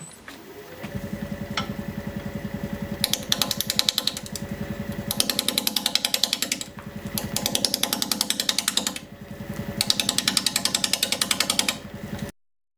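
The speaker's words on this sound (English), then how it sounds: "Still at 640 RPM, this time with a 5/8 inch bowl gouge." Wood lathe at 640 RPM turning a pedestal bowl with a 5/8 inch bowl gouge: a loud, steady rapid chattering hum with bursts of harsher cutting noise rising and falling as the tool engages, no talk.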